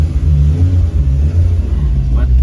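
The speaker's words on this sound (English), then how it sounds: "Let's pull out of the shop here quickly." A BMW E30 325is replica build, running on aftermarket engine management, rumbles and revs as it pulls out of a workshop, loud and close, with a voice speaking over it.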